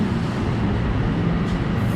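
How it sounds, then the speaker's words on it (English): A Morris & Essex line commuter train at Brick Church station in East Orange, New Jersey, a loud continuous low rumble and rolling drone of the train close by, steady throughout with no voices. "A Morrison Essex line train"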